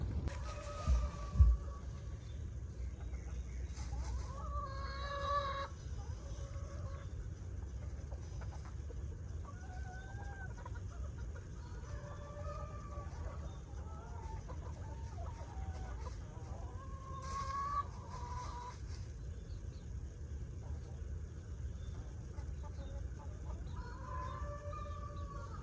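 Chickens in a backyard chicken run give scattered clucks and short calls over a steady low hum, faint to moderate and spread through the recording, with a couple of louder knocks near the start.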